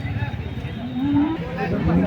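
Cows at the Sangola cattle market give a drawn-out moo close by. Low market noise and murmuring voices run underneath.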